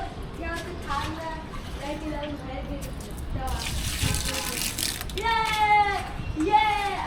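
Water runs steadily from a tank into containers while children chatter and call out over it.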